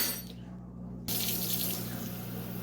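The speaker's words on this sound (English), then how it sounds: "we are going to put 1 1/3 cups of warm water in" Warm water poured into a pizza dough mixture in a home kitchen, a steady rushing pour that starts suddenly and runs continuously at close range, with no talking over it.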